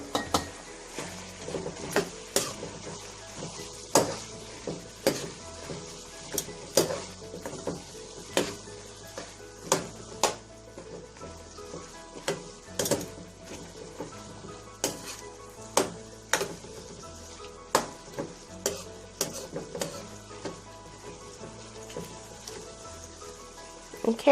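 Brussels sprouts cooking in a pan for riceless fried rice, a soft low sizzle under frequent sharp clinks and scrapes of a utensil against the pan, with a few spoken words.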